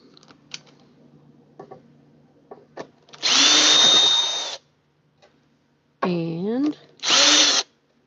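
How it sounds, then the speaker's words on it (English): An electric drill whirs in short bursts, three runs of a second or so, with its pitch rising and falling, separated by quiet clicks and handling noise. "All right, the drill."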